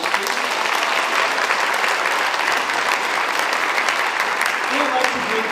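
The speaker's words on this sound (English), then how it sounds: "Let's give these wonderful individuals another round of applause." Dense, steady applause from an audience at a high school senior awards ceremony, loud and continuous clapping throughout with crowd murmur beneath.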